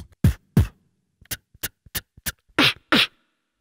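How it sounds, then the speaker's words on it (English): Beatbox loop built on a loop station, with light room reverb on every microphone track: a sparse pattern of deep kick-like thumps, short clicks and snare-like bursts, close and dry-sounding, with no talking. "it's really nice to have reverb on every track on the microphone"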